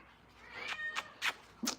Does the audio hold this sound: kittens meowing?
yes